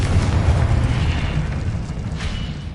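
Loud, rumbling explosion from a Confringo fire spell in Hogwarts Legacy, a sustained booming blast that slowly fades over a few seconds.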